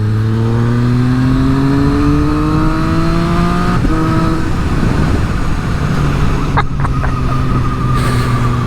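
A Triumph 765RS motorcycle with an Akrapovic exhaust accelerates hard and loud, its engine note climbing steadily through the gears with brief breaks at the shifts, heard up close over steady wind rush.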